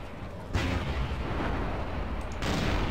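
Sustained, heavy bursts of gunfire in the vampire role-playing game Vampire the Masquerade: Bloodlines, loud and dense across the whole stretch with a swell of blasts near the start and again at the end.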